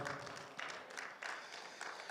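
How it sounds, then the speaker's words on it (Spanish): A crowd at a church class applauds, with dense, steady clapping that stays moderately loud throughout and no voices over it. "denle ese fuerte aplauso a ese rey maravilloso"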